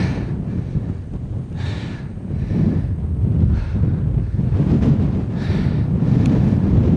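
Strong gusting wind on a mountain trail buffets the microphone in heavy, continuous rumbling bursts, loud and close, with no voices.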